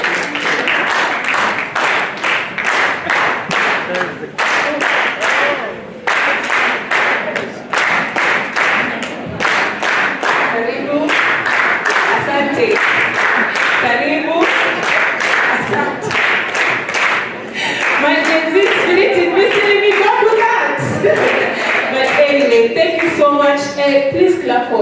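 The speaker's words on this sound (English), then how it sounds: "So we will clap for them until they are able to leave the stage and they are able to sit" An audience at a regional workshop claps steadily and loudly as speakers leave the stage, with dense sustained clapping that briefly dips and picks up again, and a voice heard near the end.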